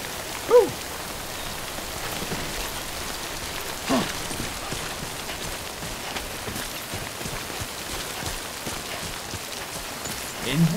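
Steady rain falls in the video game Death Stranding, a constant even hiss throughout with a few brief louder knocks, and no talk over it.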